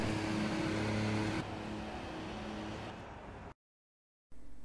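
F1 2016 video game race cars on the grid at the Russian Grand Prix, engines holding steady high revs as the start lights come on, a loud sustained drone that shifts pitch before cutting to silence.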